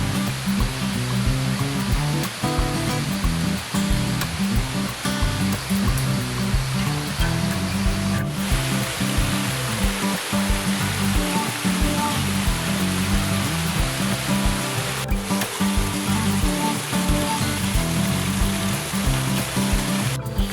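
A small river stream flows past the bank in a village countryside setting, a steady, close, unbroken rush of water that holds evenly throughout with no talking.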